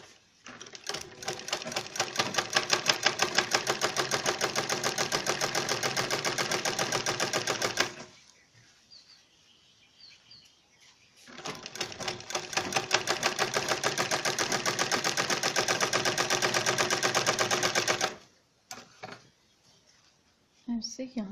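A sewing machine runs in two long, steady bursts of rapid rhythmic stitching, sewing a zip onto a designer bag pocket, loud and close, with a quiet pause between runs.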